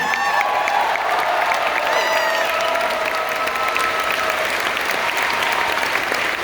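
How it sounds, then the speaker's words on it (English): A crowd at a Brooklyn College gathering applauds elected officials with steady dense clapping, scattered cheers and whoops rising above it, and a few voices faintly audible through the noise. "And a round of applause for incredible elected officials that we have here from the city, the state, the federal level"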